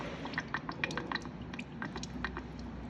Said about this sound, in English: we also have fish sauce that we need to add to the marinade.